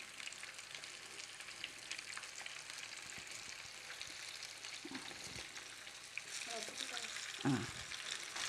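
Onion rings fry in hot oil in a home kitchen, a steady close sizzle and crackle throughout, with a few soft clinks and stirring noises near the end.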